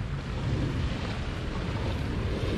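Soft, continuous wash of surf and wind at Honeymoon Beach in Jimbaran, Bali, a broad steady rush at low volume with no voices.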